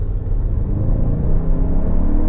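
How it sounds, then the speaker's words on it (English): A 2024 Toyota Grand Highlander Hybrid Max Limited AWD accelerates hard, its gas engine and turbo building into a loud, steady low rumble heard from inside the cabin. "you can hear the gas engine and that turbo kick in a lot quicker"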